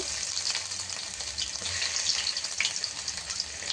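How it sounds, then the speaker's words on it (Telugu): Chopped garlic and ginger hit hot oil in a pan for a vegetable Manchurian, giving a steady, close, bright hiss and crackle that runs without pause and with no talk. "సన్నగా తరిగి పెట్టుకున్న ఎల్లుగడ్డ ఒక ఎనిమిది రెబ్బలు వేసుకున్నాను"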